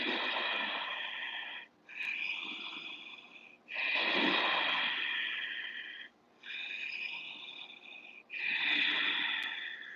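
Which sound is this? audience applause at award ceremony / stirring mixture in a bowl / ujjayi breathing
ujjayi breathing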